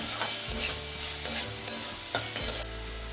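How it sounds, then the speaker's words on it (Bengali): Cabbage, capsicum and other vegetables sauté in a pan for chicken soup. A constant sizzle runs under several distinct scrapes and clatters of stirring, spaced roughly every half second, with no talking. "এরপর হালকা একটু লবণ দিয়ে আমি এই সব সবজিগুলো সটে করে নেব।"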